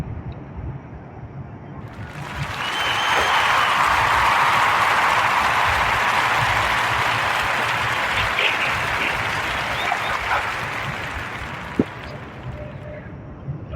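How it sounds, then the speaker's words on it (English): An audience breaks into warm applause for a podcast guest, a broad wash of clapping that builds after a couple of seconds, holds strong for several seconds, then slowly thins out toward the end. "join me in giving this sister a warm Narrator Podcast round of applause for her accomplishments"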